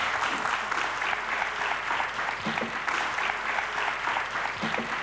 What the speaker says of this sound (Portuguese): Um grande aplauso para eles.